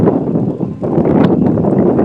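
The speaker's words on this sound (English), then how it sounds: "Oh, it's getting a bit windy." Steady wind buffeting the microphone, a continuous low rumble with gusty fluctuations and no speech.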